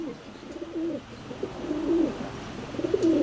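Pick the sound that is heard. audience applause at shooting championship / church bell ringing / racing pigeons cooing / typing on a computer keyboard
racing pigeons cooing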